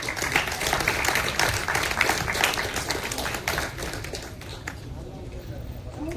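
Audience applause at a Tamil movie audio launch for the film All Pass: a dense, steady wash of clapping from a large crowd that carries on for several seconds and then thins slightly toward the end.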